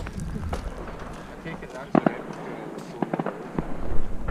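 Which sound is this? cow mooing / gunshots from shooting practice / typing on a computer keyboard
gunshots from shooting practice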